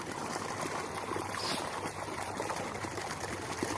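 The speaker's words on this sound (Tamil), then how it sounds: "தண்ணி பாயுது." Steady, continuous rush of water flowing into a paddy field of rice seedlings, with no break and no voices.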